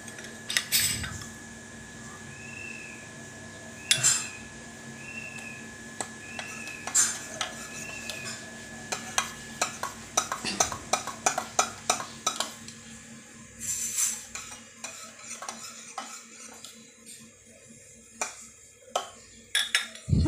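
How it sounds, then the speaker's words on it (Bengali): A spoon stirs basil seeds into water in a glass, giving bursts of quick, bright clinks and scrapes close by that grow busier toward the end, with no talking. "এই যে এখানে বেসিল সিডগুলি জল দিয়ে গুলে নিচ্ছি"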